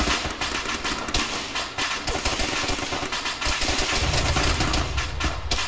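Dense, rapid gunfire in a military shooter game, crackling shots packed closely over a constant engine-like rumble, loud and close throughout.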